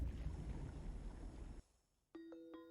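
Turbulent water rushes near a forgotten temple in a video game, a loud broadband roar that cuts off abruptly after about a second and a half, followed by a short silence and a few clear chiming tones.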